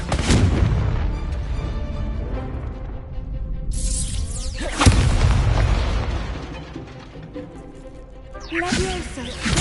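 Fire spell blasts burst out in the Hogwarts Legacy video game, each a loud booming explosion. Several come in sequence with crackling tails, while someone shouts spell names over them.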